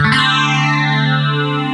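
One strummed guitar chord in DADGAD tuning with a high octave D on top rings on steadily, processed with a chorus-like shimmer, no voices.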